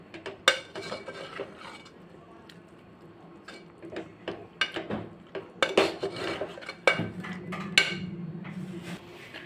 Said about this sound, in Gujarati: આપણે રાજમા અને આખી અડદની દાળને થોડુંક અધકચરું આપણે મેસરથી મેશ કરી લઈશું